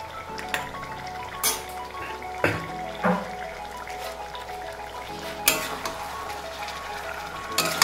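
Chicken curry with ground black pepper fries in a pan with a low, steady sizzle, broken by several sharp clinks and scrapes of a utensil spaced a second or two apart.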